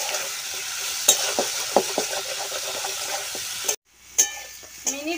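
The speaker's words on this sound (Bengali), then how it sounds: "ভেজে নিচ্ছি।" Pre-fried chicken pieces sizzle in a pan for chilli chicken, a loud continuous hiss broken by spatula scrapes and knocks, with a brief silent gap near the end before the frying resumes.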